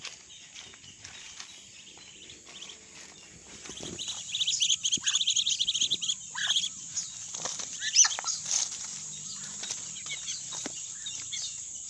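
Ducks and chickens in a rural provincial yard give scattered clucks and quacks, growing busier and louder after the first few seconds over a steady high insect-like drone, with no talking.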